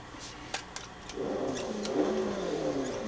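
A BMW F10 M5 engine in Forza Horizon 2 idles with a few light clicks, then rises into a smooth, moderate rev that holds steady, fairly quiet and unaggressive.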